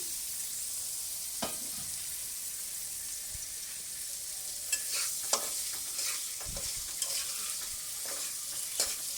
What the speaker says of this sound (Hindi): अब मैं इसमें बारीक कटी हुई गाजरें डाल दूंगी।